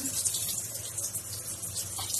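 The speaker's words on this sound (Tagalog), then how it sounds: "Ang kailangan lang ay buhusan ng tubig." Water splashes and hisses steadily into a hot, blackened kawali frying pan during cleaning, a continuous faint gushing pour heard close up with no voices.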